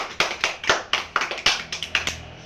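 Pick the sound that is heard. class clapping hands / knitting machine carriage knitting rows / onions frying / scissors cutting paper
class clapping hands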